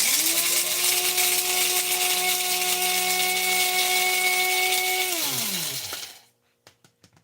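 An electric grinder whirs steadily through fresh coffee beans early in the morning, a loud high whine that holds for about five seconds, then winds down and stops, followed by a few light clicks.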